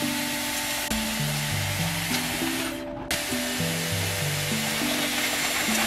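A Dyson Airwrap hair styler blows a steady, close airy roar under stepped tones, with a sudden brief dropout midway before the rush resumes.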